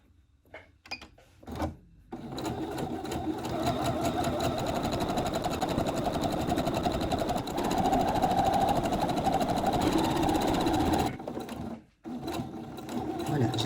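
A sewing machine stitching the seam of a heart-shaped cushion runs steadily and close for about nine seconds with a fast mechanical whirr, preceded by a few short clicks and stopping briefly before restarting.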